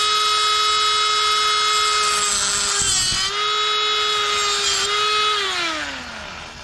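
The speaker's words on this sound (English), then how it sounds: "So I have a Dremel tool here." Dremel rotary tool scoring a Honda Helix scooter rear brake part, a high steady motor whine with a grinding edge that dips as it bites into the metal, then winds down at the end.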